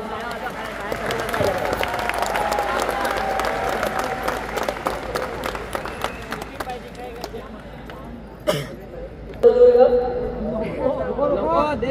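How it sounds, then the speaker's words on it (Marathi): An audience claps at a Tarpa dance competition event in Palghar, with scattered and then fuller rounds of applause mixed with crowd chatter and a voice talking over a loudspeaker. "तुम्हाला प्रोत्साहन देण्यासाठी काही कार्यकर्ते टाळ्या वाजवत आहेत"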